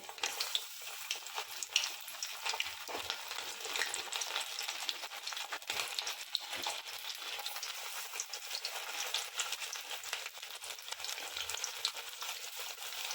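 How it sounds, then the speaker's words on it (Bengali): Bombay duck fish pakoras frying in hot oil, a steady dense sizzle and crackle holding for the whole stretch, close and fairly even with small bursts and no voices. "দেখুন এখানে তেল গরম হয়ে গেছে। এবার একটা একটা করে এইভাবে মাছগুলো ছেড়ে দেবো।"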